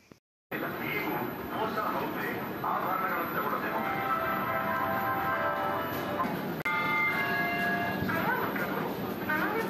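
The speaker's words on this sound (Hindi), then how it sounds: "राजधानी एक्सप्रेस, जो कि बहुत ही फास्टेस्ट एक्सप्रेस है बिटवीन बेंगलोर टू दिल्ली।" Steady, loud rumble of the Rajdhani Express running between Bangalore and Delhi, heard from inside a 2nd AC coach, with continuous wheel and carriage noise and faint tonal sounds partway through.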